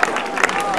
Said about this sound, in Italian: Un applauso ai ragazzi del Metal Sud